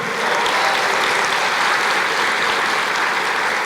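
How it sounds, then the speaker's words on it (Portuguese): A church congregation applauds steadily for about four seconds, a dense, even wash of many hands clapping close by, with no voices standing out. "Aplauda o Senhor."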